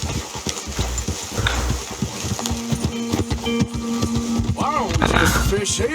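Horse hooves clip-clop rhythmically as a horse is ridden in the video game Red Dead Redemption 2, a steady galloping beat with occasional snorts, someone talking over it.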